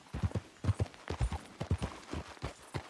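Horse hooves clip-clopping at a steady walking rhythm in Red Dead Redemption 2, a borrowed horse on a trip, soft, close and fairly quiet with no talk.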